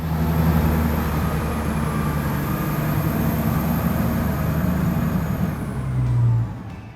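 A Caterpillar 777 mining truck releases its brake with a loud, continuous hiss of air over a low engine rumble, lasting several seconds before fading with a brief surge near the end.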